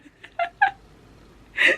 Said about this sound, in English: That is the snore of my cat.